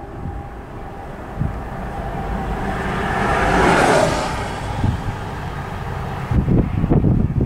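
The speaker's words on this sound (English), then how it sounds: "The end of the train's finally coming." Tail end of a long freight train rolling past on the line toward Cajon Pass, a steady wheel rumble that swells to a peak midway and fades, with a few clanks and knocks as the last cars near.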